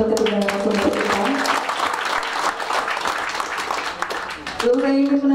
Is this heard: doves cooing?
no